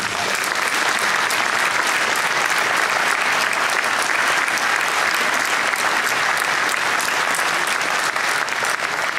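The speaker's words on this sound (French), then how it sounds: "j'aimerais que vous les applaudissiez" A large audience at a mayor's New Year address in Aulnay-sous-Bois applauds continuously, dense clapping at a steady loud level from start to finish.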